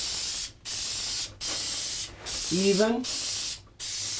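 Bursts of spray fog a clear coat onto an eagle address sign, each a loud, close hiss lasting about a second, with short gaps between them; someone speaks briefly over one burst.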